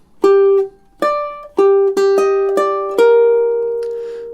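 Ukulele picking the second measure of the Beverly Hills Cop theme, a short run of crisp plucked notes ending on a sustained ringing tone, solo and close.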